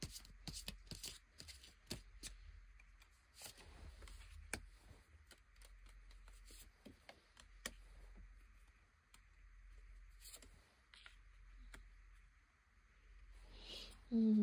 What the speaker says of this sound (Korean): 카드 한번 뽑아보도록 하겠습니다.